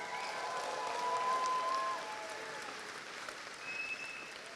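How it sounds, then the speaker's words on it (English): A graduation ceremony audience applauds the musicians, soft steady clapping from a seated crowd, fairly distant, with a faint sustained musical tone running beneath at the start. "should we have another round of applause for them"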